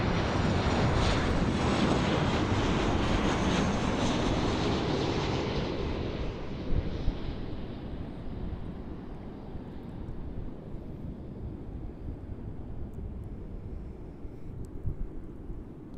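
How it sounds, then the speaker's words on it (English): A KLM Boeing 737-800 landing at Amsterdam airport: loud, broad jet roar at first that gradually fades and dulls as the plane rolls away, leaving a lower rumble with some wind buffeting. "landing now we have the KLM 737-800 from Rome"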